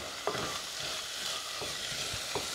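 Moong lentils roasting in a pressure cooker pot, a soft, steady sizzle with a few light scrapes as they are stirred.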